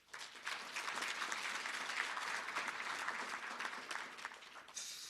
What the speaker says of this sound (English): So I think we can give them a round of applause.